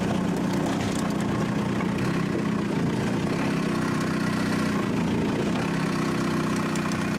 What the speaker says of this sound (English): I'm just going to start crawling up here in low gear and see what it does